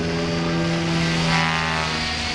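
A steady, loud helicopter engine drone with a constant low hum and rotor-like tone at an airshow, continuous throughout with no voices.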